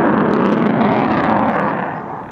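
An F-15 fighter jet thunders past at an airshow demonstration at Dubai Airshow 2023, a loud broadband engine roar that holds steady and then fades slightly as it moves away.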